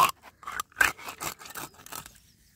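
Scissors snip through a large, wide pond fish's belly in a series of short, close cuts spaced unevenly over a couple of seconds, with no talk.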